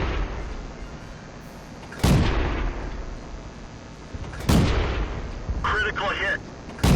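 A T127 tank in World of Tanks on the Ruinberg map fires its main gun twice, about two and a half seconds apart. Each shot is a loud, sharp cannon blast that decays into a rumble over a steady engine drone.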